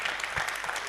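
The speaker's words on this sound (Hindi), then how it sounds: "तो तालियों के साथ मुझे भी बता सकते हैं आप भाई" Brief, dense applause from an audience at a mushaira poetry gathering in Pant Nagar, moderately distant and steady.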